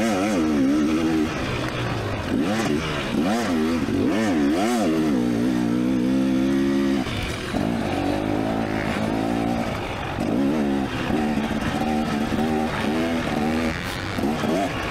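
A dirt bike engine roars steadily while being ridden in an open-class race on a hot day, its pitch sweeping up and down with throttle changes, loud and close the whole time without any talk.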